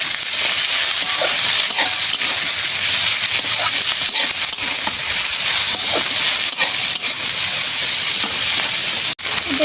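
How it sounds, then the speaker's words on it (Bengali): Green chilies frying with kundru (ivy gourd) in a pan, a loud, dense hiss of sizzling oil running steadily throughout with faint stirring underneath and one sharp click near the end. "কাঁচা লঙ্কাগুলো দিয়ে দেবো, দিয়ে আবার নাড়বো।"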